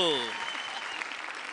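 A studio audience at the semifinal of the Super Singer Junior TV singing competition bursts into steady, dense clapping right after a brief sustained voice at the start, the applause carrying on evenly.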